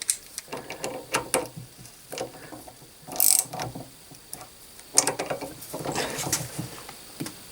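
A hand tool pre-tightens the screws on the Panhard axle of a 1954 Panhard Junior, making close, quick ratcheting clicks in short irregular bursts with small metallic taps between them.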